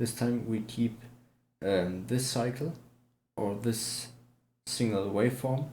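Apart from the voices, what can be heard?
No everyday noises stand out.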